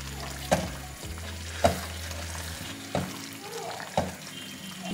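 Eggplant curry cooking in a pot is stirred, with a low bubbling simmer and four distinct spoon knocks and scrapes spaced about a second apart.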